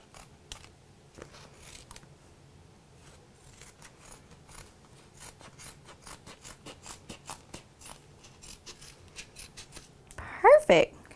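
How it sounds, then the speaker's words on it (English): Scissors snipping petal-shaped pieces of material for a spica cast, a run of quick dry cuts that grows steadier and closer together toward the end, in a quiet room, with a brief voice at the close. "we're just going to start at one side and cut a piece with our scissors."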